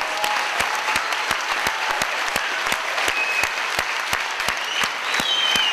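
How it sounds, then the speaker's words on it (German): An audience at a prize event applauds steadily throughout, a dense even wash of clapping with a few sharp individual claps standing out close by. "Euren Applaus."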